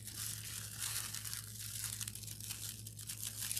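Heat transfer vinyl foil being torn and crinkled by hand while decorating a cotton apron with bunnies and flowers, giving a soft, steady rustling and crackling close by, faint overall with no talk.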